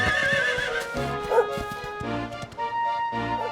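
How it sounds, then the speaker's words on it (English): A horse in the Dragon Quest XI video game whinnies with bright, wavering tones over clip-clopping hooves during riding, accompanied by game music throughout. "I got the hang of horse riding real quick."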